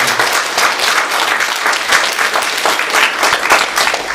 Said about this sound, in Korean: 박수를 한번 격려하겠습니다.